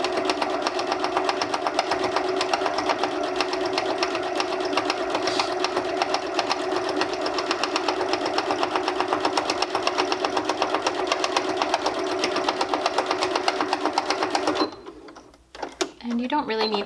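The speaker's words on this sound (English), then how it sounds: "And sew all the way across." A sewing machine stitching straight across fabric for a microwaveable bowl cozy, running as a fast, steady mechanical chatter near and loud for about fifteen seconds before stopping briefly, then a few short starts.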